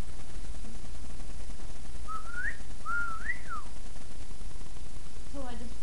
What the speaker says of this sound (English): I whistled at him